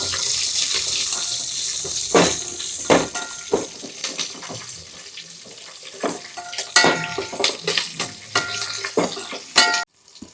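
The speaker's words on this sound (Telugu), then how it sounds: "ఇది కొంచెం ఫ్రై చేద్దాం." Green chillies and bay leaf frying in hot oil for a chicken biryani, a steady close sizzle with intermittent sharp crackles and stirring clatter, no voices.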